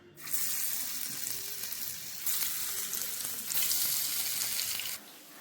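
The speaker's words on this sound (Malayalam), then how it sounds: "എണ്ണ നന്നായിട്ട് ചൂടായിട്ടുണ്ട് കേട്ടോ ഇനി നമുക്ക് നമ്മുടെ വാഴപ്പോള പെറുക്കിയിടാം" Loud, continuous sizzling of banana stem frying in hot oil, hissing in surges that swell twice before cutting off abruptly.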